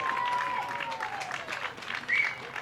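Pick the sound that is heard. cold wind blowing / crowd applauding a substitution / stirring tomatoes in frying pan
crowd applauding a substitution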